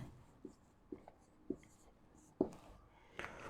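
Faint, sparse scratches and taps of writing out a definition during a mathematics lesson on conic sections, a few short strokes scattered irregularly with no talking.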